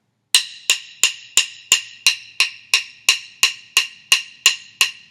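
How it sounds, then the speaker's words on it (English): Evenly spaced hi-hat strokes, around fourteen crisp metallic ticks at a steady rhythm and matching volume, close and alone with no talking. "Some people like to play them all even."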